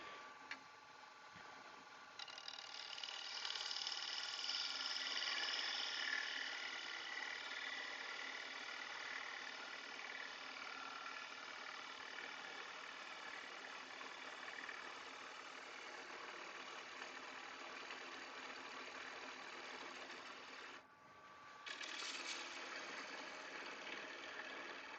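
A woodturning gouge, going slightly dull, shapes a beaded wooden bowl on a spinning lathe, making a steady whirring, scraping drone that breaks off briefly near the end and then resumes.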